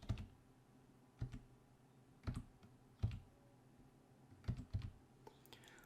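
Slow, deliberate keystrokes on a computer keyboard while a Wi-Fi network name is entered, about seven or eight separate soft taps spaced roughly a second apart, close but quiet.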